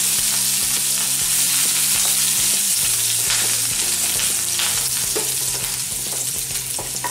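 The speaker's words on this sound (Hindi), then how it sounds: "हमने ये 1 टेबलस्पून ऑयल लिया है, जिसमें हम अभी ये लहसुन और हरी मिर्च डालेंगे" Garlic and green chillies fry in a tablespoon of oil over a low gas flame, giving a steady, close sizzle and crackle throughout, with occasional stirring clatter and no voices.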